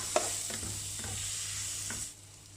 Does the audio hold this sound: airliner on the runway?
no